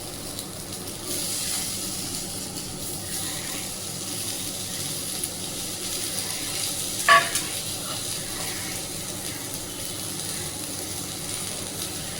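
Potato slices frying in oil on a dosa griddle make a steady, even hiss throughout, with a single brief clack partway through and no voices.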